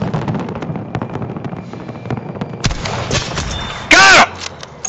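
Sniper rifle shots in Battlefield 5, a sharp crack of gunfire among scattered distant battle noise, a loud burst near the end, with players talking over it.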